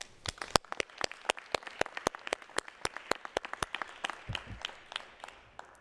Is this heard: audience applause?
yes